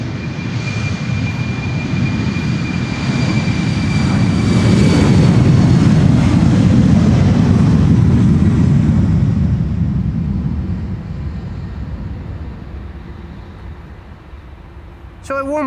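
A KLM Embraer 190 jet takes off from the Polderbaan runway at Amsterdam Schiphol, its engines swelling into a loud, broad roar that peaks midway and then slowly fades as the aircraft climbs away.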